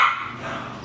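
A puppy barks close by, a single short bright yip that trails off over under a second, with no talking.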